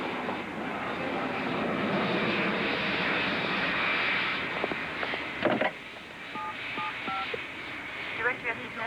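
A rapid string of electronic dialing tones near the end, over a steady background roar like an aircraft cabin, with voices murmuring.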